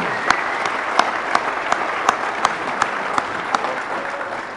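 Audience applause at an awards banquet for a dogs' team, a steady wash of many hands clapping with a few louder claps standing out, moderately close and continuous throughout.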